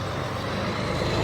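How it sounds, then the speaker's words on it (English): A loud truck passes close by on a mountain road, its heavy engine rumble steady and broadband for the whole moment with no talk over it. "Loud truck."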